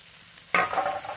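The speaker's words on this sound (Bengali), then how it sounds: "এবার ভেজে রাখা মাছ দিয়ে দেব।" Fried fish drops into spices frying in a pan, a sudden burst of close sizzling that jumps up from near-quiet and keeps hissing steadily.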